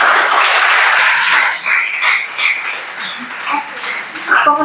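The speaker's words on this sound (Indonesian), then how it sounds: "Tepuk tangannya dulu dong." An audience at an Indonesian digital journalism talk gives a burst of applause that fills the opening seconds, then thins into scattered claps mixed with speech.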